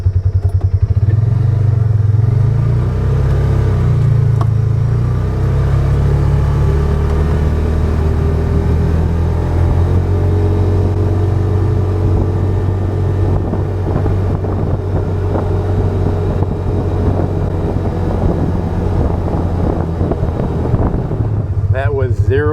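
A Polaris Ranger 570 on a test drive gives a loud, constant low engine drone mixed with heavy wind buffeting. A voice talks over it for stretches.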